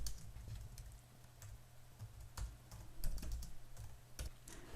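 Computer keyboard typing text into template boxes in event CAD software, a quiet, irregular stream of close key clicks with occasional sharper taps, continuous throughout and without talk.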